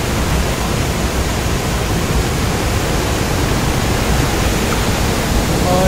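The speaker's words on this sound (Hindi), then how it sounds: "यहाँ का जो झरना है बनाया गया है, ये आर्टिफिशियल नहीं है, ये नेचुरल है" Water from the natural waterfall at Amby Valley near Lonavala pours in a steady, dense rushing roar. It stays loud and unbroken throughout, with no voices.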